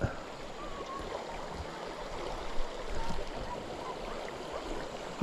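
Steady broadband rush of flowing water in a small stream channel at Kaeng Tone, Ban Kaeng Mi, Chiang Khan, Thailand, continuous and fairly close with no voices.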